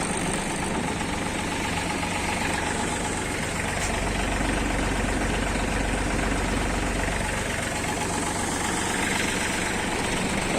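An Iseki Sial TF 23 mini tractor runs in gear with a steady, loud, close-up diesel chatter and a low rumbling throb that holds constant throughout.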